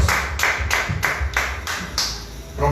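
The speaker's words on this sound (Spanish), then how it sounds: "vamos a dar un fuerte aplauso a Dios" A Spanish-speaking church congregation claps together in a loud, steady rhythm, roughly three beats per second, close and continuous until a brief pause at the end.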